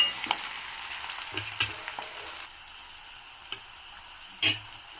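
Onions, green chillies, curry leaves and dried chillies frying in hot oil for a tomato curry with broad beans, giving a steady soft sizzle broken by a few brief stirring clinks and scrapes, with no voices.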